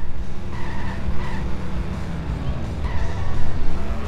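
A car in The Simpsons Hit and Run skids with loud tire squeals while ramming another vehicle, several screeching bursts over a constant roaring engine, close and prominent.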